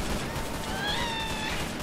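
A Minecraft ghast lets out a wavering, cat-like wail over a dense, crackling background of combat noise. The cry is brief and high-pitched.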